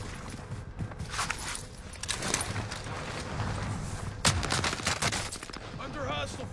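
Bursts of rapid automatic gunfire and scattered shots echo through a Call of Duty Warzone match on Fortune's Keep, over a constant game background.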